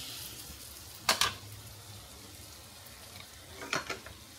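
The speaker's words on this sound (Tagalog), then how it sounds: "Magluluto tayo ng tauge." Bean sprouts (tauge) fry in a hot pan with a steady, close sizzling hiss, broken by two louder bursts of crackle as the sprouts are stirred and tossed.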